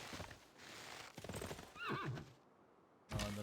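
A horse in a video game whinnies loudly with a rising and falling neigh, set among clip-clopping hooves and battle noise, ending in a sharp thud.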